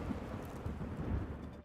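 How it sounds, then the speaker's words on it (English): Thunderstorm in the mech combat game Mecha Break: steady heavy rain hissing over surfaces under a low rolling thunder rumble, continuous and fairly quiet, tapering off at the very end. "Storm's coming."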